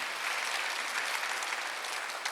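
A church congregation at a Sunday worship service breaks into loud, dense applause that fills the room, steady and continuous throughout.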